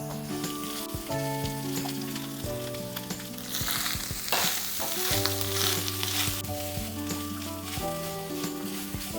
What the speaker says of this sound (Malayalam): ഇതിനി ഒരു ബ്രൗൺ കളർ വരുന്ന വരെ നമുക്ക് ഇളക്കി കൊടുത്തുകൊണ്ടേ ഇരിക്കാം.